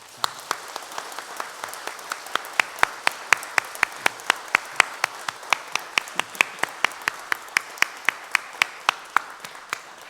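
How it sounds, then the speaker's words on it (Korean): A church congregation at a Sunday afternoon service gives a blessing applause: steady, evenly spaced claps from a modest group, fairly close and moderately loud, with no voices over them for about ten seconds. "축복의 박수 하도록 하겠습니다"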